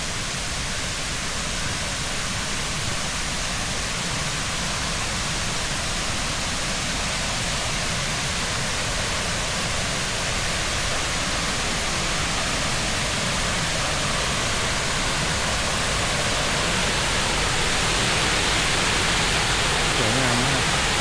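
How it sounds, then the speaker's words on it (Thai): The fourth tier of Huai Mae Khamin waterfall roars as a dense, constant rush of falling water, loud and close, filling the scene without a break. "น้ำตกชั้น4ครับ"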